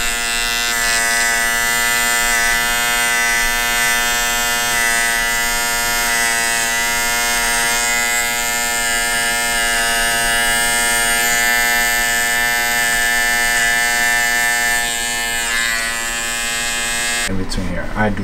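Electric hair clippers tapering the back of a haircut give a steady, close, high-pitched buzz that runs unbroken and then cuts off abruptly near the end.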